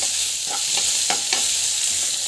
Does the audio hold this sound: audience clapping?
no